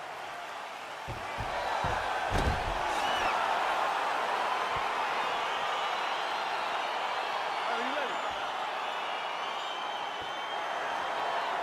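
A crowd in EA Sports UFC 4 buzzes steadily as a fight gets underway, a dense wash of cheering and murmur with a few thuds early on and a voice speaking briefly at the start.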